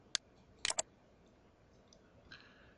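Computer mouse clicks, close and crisp: a single click followed by a quick cluster of two or three clicks, then faint soft ticks in an otherwise quiet room.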